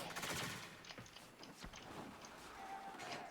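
Mesa's weapon in Warframe fires a few quick, faint gunshots in short bursts, low in the mix over a soft game background.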